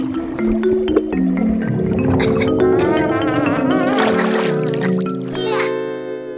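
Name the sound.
Peppa Pig cartoon gurgling water through a snorkel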